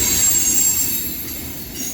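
A CSX mixed freight train led by an ex-Conrail EMD GP40-2 locomotive rolls past at night, a steady close rumble with a faint high wheel squeal over about two seconds.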